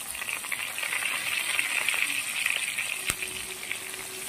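Onions, ginger, garlic and a bay leaf fry in hot oil for a tomato curry, giving a loud, steady sizzle with a sharp clink near the end and no talking.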